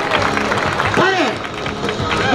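An audience claps steadily through a freestyle skateboard demonstration at a shopping mall in Koshigaya, Japan, a dense continuous patter of hands mixed with crowd murmur, while an announcer keeps talking loudly over it.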